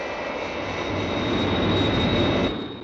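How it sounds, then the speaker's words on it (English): Airliner jet engines roar in flight with the throttles jammed, a loud, steady broadband rumble and whine that swells slightly, then cuts off sharply near the end. "The airliner is still not responding, Colonel White."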